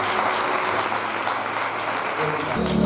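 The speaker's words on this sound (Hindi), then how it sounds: "प्रभु के लिए ताली बजाते हैं।" A church congregation applauds for the Lord during a resurrection-day sermon, a loud, full burst of many hands clapping together, sustained evenly from start to finish with no talking over it.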